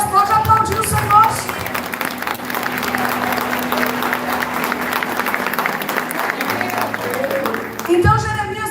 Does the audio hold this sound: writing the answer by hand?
no